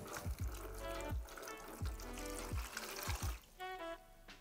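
Water from a bucket is poured onto terrarium soil in several short, distinct glugging bursts, close and fairly quiet, each gush trailing off into trickling.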